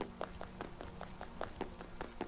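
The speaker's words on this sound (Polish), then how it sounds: "I jest poranek i pada deszcz" Steady rain in the Minecraft video game at morning, a soft continuous patter with regular tapping drops against a low steady hum, no voices.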